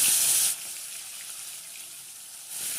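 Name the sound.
rui fish frying in hot oil in a kadai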